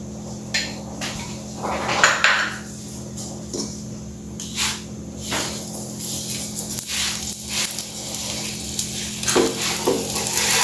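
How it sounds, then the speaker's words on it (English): Puran poli, a stuffed Maharashtrian flatbread, fries in ghee on a pan with a soft steady sizzle broken by clicks and scrapes of a spatula turning it, no voices. "We need to fry it till both the sides are nice and golden brown."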